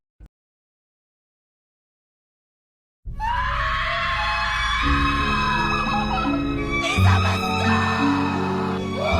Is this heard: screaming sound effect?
yes